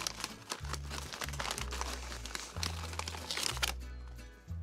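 A bag of Chio Tortillas Juicy Salsa chips is handled and crinkled, producing steady crackling plastic rustle over a low background hum, fairly quiet and close.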